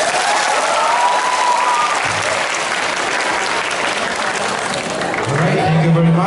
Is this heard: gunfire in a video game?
no